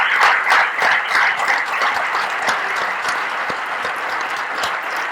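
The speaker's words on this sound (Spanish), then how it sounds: "para el cual pido un gran aplauso porque está trabajando muchísimo" Audience applause at an association's presentation event, steady dense clapping from a crowd lasting several seconds at even loudness without speech.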